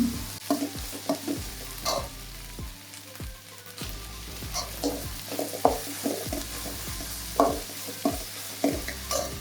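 Ginger garlic paste and chana dal mix sautéing in a pan for vadacurry, a steady soft sizzle broken by repeated scraping stirs of a spoon at a close, even rhythm.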